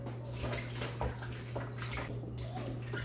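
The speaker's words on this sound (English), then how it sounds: "gonna wash the chicken off now with some vinegar, and then I'll rinse it again with some water" Water runs steadily over raw chicken as it is rinsed with vinegar and water in a kitchen, a continuous splashing flow with a low hum beneath, close and moderately quiet.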